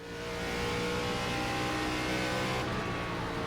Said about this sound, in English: here comes the hot lap. Smooth on the throttle on exit